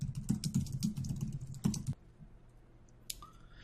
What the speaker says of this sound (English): it took me about 2 minutes to type all this out